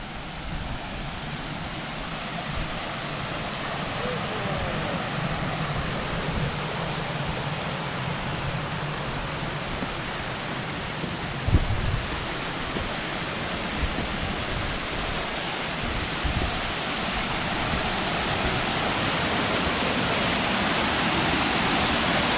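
Waterfall on the Isle of Mull, heard as a continuous broadband rush of falling water that stays steady and fairly loud throughout, with no other sounds standing out.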